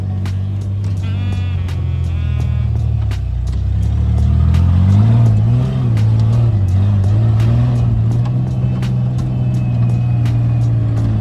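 A pickup truck drives through snow, its engine droning loud and close with rising revs as it accelerates, then settling into a steady pull, with brief clicks and rattles over the top.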